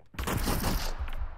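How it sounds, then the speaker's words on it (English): A thrown grenade goes off in the VR game Half-Life: Alyx. It makes one sharp, loud, close blast with a rumbling tail that fades quickly. "Let me try throwing a grenade, actually."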